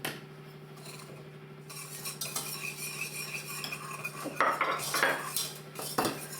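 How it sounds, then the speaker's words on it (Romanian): Sugar and flour being mixed in a bowl with a spoon or whisk, for a layered sour cream cake; close scraping and clinking of utensil against the bowl, growing busier and louder toward the end, over a low steady hum. "Amestecăm zahărul cu făina să nu facem cuculoașe"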